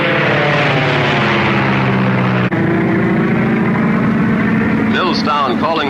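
Propeller airplane engine droning steadily at night in a 1936 film, a loud continuous hum with shifting tones and an abrupt cut midway, briefly joined by other sounds near the end.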